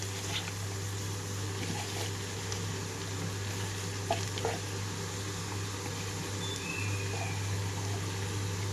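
Chopped chukkakura (sorrel-like leafy greens) tossed into a tempering of softened onions in a pan, giving a steady soft sizzle and moist crackle that runs unbroken throughout, close by with no talk.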